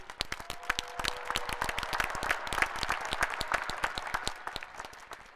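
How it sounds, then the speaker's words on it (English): A large crowd applauds at a university spring commencement ceremony in an outdoor stadium. Sharp, distinct claps ring out over a steady roar of applause at moderate distance, running continuously with no talk over it. "let's give one final round of applause to thank your family, friends, faculty, and university staff who've supported you"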